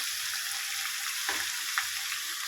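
Mango pickle (avakaya) stirred and mixed in a vessel, a soft continuous hiss with a couple of brief scraping stirs standing out midway.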